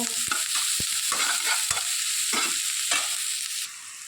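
Chopped onion with salt and turmeric sautés in hot oil in a pan, a continuous bright sizzle broken by several scraping stirs of a spoon, with no voices.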